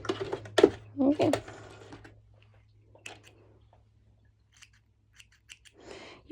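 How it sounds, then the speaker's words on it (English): Scissors trim excess fabric on a sewing project, making a few crisp snips close by, then quieter scattered clicks and rustles, with a speaker talking intermittently. "You can, of course, trim the excess fabric over here."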